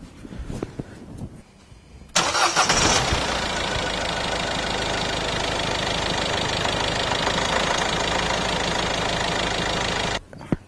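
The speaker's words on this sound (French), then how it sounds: "on va aller à l'intérieur et faire démarrer le moteur" After a few seconds of quiet clatter, a Peugeot 307 HDi diesel engine cranks and fires up after a fuel filter replacement, then settles into a loud, rough, steady idle before cutting off abruptly.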